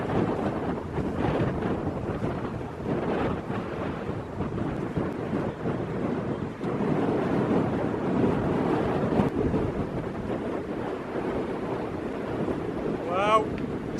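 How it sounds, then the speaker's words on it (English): Strong, steady wind gusting across an open upland path on the Cambrian Way in Wales, a continuous loud broadband roar with buffeting against the microphone, swelling and easing throughout. "It's really windy now, which is great, no midges"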